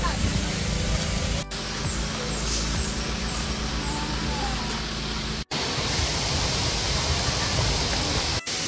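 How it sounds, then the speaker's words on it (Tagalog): The rushing water of Pulawan Falls in Dinalungan, Aurora makes a loud, constant broadband roar, heard at a distance along the trail and interrupted by a few brief dropouts. "dito pa lang naririnig nyo na yung nagaslas ng tubig"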